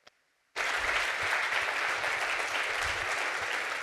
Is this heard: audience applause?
yes